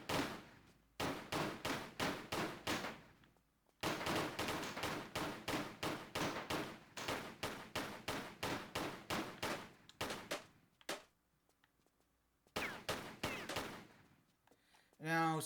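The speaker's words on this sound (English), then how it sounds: "Right trigger fires." Guns firing in Tomb Raider Remastered, several loud, close runs of rapid evenly spaced shots separated by brief pauses, ending with a short sweeping sound.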